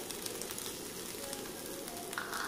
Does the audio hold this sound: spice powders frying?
yes